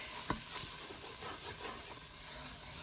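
Flour is stirred into onion and carrot sautéing in a pot, giving a steady frying hiss with a faint scrape early on and no voices.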